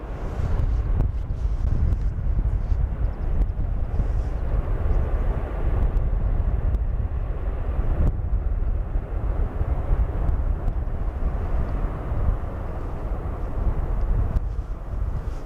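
An airliner lands at Schiphol Airport in windy weather with a continuous heavy engine roar, and gusting wind buffets the microphone throughout. Nobody speaks.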